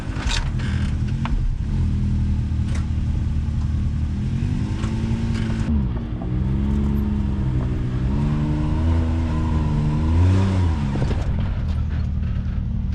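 Off-road vehicle engine revving on the Pritchett Canyon trail in Moab, a steady low drone that rises and falls in pitch with throttle surges, loud and close with faint creaks, no talk.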